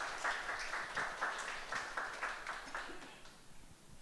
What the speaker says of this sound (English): Could we have another round of applause for Harshali, please?